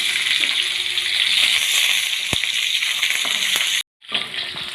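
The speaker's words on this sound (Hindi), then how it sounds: "हमारा ड्रमस्टिक फ्राई हो रहा है।" Chicken drumsticks frying in hot oil, giving a steady loud sizzle and crackle close up that runs without a break, then cuts out briefly and resumes.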